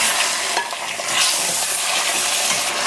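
Chicken pieces frying with browned onions in a pot for chicken biryani, a steady loud sizzle with stirring scrapes running throughout, close and continuous.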